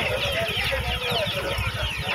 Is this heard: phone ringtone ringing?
no